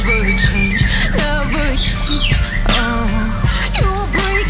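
Parakeets chirp and whistle loudly and close, repeated rising and falling tweets overlapping as birds call back and forth, over a steady low background hum.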